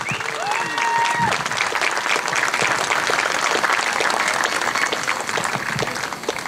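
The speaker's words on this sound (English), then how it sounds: "One more big round of applause for Mr. Jack Sebesta." A crowd at a youth soccer opening ceremony applauds loudly and steadily for several seconds, with a brief whistle near the start.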